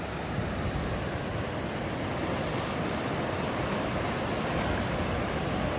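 Steady, loud roar of ocean surf breaking continuously at Heungnam Beach, a dense wash of wave noise with no voices.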